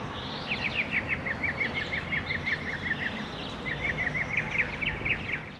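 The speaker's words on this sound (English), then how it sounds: "You hear the birds singing?" Birds sing in quick chirping trills in a quiet town square in Sonoma, California, the bright repeated notes running in two bursts over soft ambient background noise.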